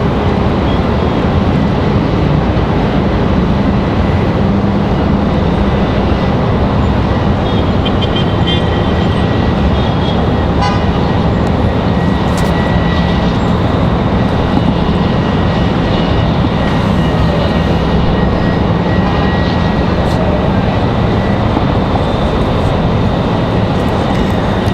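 Boeing 737-700 airliner arriving from Austin at Raleigh-Durham International Airport, a steady loud broadband roar of jet engines sustained throughout with no talk.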